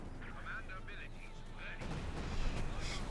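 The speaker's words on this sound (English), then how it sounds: "Could we see a bombing run? Yes." A bombing run in the Company of Heroes 2 strategy game sends deep booming explosions rumbling through a snowy battlefield, swelling louder in the second half beneath a commentator's continuous excited talk.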